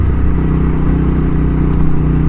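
A motorcycle fitted with a new aftermarket exhaust runs close by with a loud, steady, throaty engine drone and rapid low pulsing, without talk.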